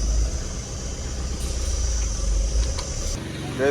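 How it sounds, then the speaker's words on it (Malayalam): A goods truck hauling a full load of grapes idles as it reverses, giving a steady, loud low engine rumble that shifts near the end, with faint voices in the background. "നമ്മുടെ വണ്ടിക്ക് റിവേഴ്സ് ഇട്ട് കൊടുക്കാം കേട്ടോ"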